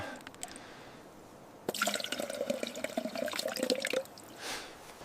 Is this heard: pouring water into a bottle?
yes